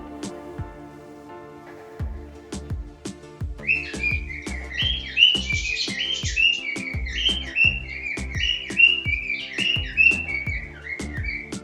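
Baby cockatiels being hand fed give repeated high, raspy begging calls for more food. The calls rise into a steady chorus over a background of regular rhythmic tapping.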